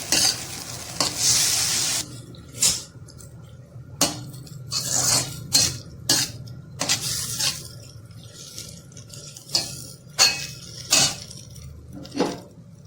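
Chicken cooks in a pan with chili sauce and soy sauce: a spatula scrapes and knocks against the metal in repeated sharp strokes over a soft sizzle, starting with a louder hissing burst.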